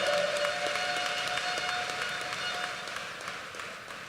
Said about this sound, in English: I think a round of applause for the students and teachers very much in order.